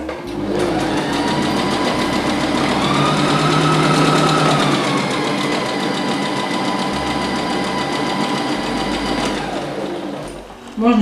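A sewing machine stitches patchwork fabric scraps for a quilted mat, running as a steady, loud, close mechanical whir for about nine seconds before it slows and stops.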